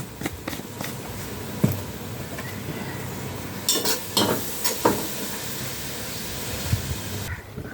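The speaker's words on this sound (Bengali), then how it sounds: "হলুদ মরিচ দেওয়ার পরে এভাবে একটু ভেজে নেবেন" Turmeric and chili fry in a pan for a curry, giving a steady close hiss of sizzling. A few scrapes and clinks from stirring rise above it.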